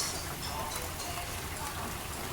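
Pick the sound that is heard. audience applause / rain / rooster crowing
rain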